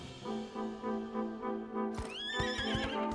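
A horse in the game My Time at Sandrock neighs loudly in a long shaking whinny, followed by a brighter rising squeal, with a few hoof clops near the end.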